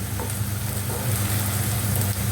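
Chopped onions fry in a pan for a pona fish bhuna, giving a steady, close, dense sizzle and crackle with a low rumbling undertone throughout, no talking.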